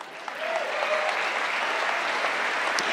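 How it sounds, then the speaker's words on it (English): Sustained applause from an audience at a Reawaken America rally, a steady dense wash of clapping that fills the whole stretch, close and moderately loud with no talk over it. "That's worth clapping for."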